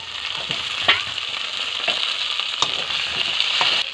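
Potatoes going into onions already fried red in hot oil, setting off a steady loud sizzle with a few sharper crackles and stirring scrapes, close by and with no talk.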